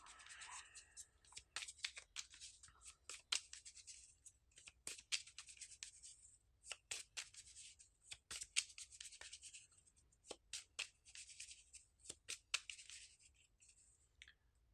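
Soft, close papery rustling and flicking as paper slips are shuffled for a Magic: The Gathering pack giveaway, irregular quick bursts with short pauses, quiet and without voices.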